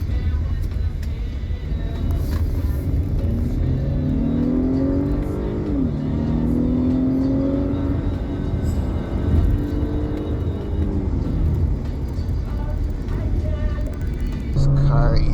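A 2021 Acura RDX A-Spec SUV with all-wheel drive accelerating on a road, engine note rising and falling through gear changes, heard steadily from inside the cabin with a voice talking over it.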